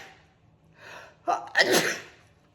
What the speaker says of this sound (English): I would sneeze.